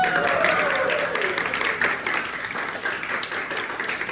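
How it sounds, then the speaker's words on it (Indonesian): Applause from a group of students in a classroom during a motorcycle maintenance lesson, a dense patter of clapping that fades gradually over a few seconds without speech. "tepuk tangan untuk kita semua"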